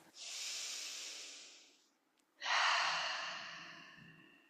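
Two long, loud breaths during a yoga practice, a deep inhale then a fuller exhale after a brief pause, close and breathy with no talking.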